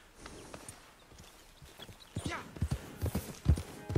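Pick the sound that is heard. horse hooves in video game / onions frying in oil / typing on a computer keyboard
horse hooves in video game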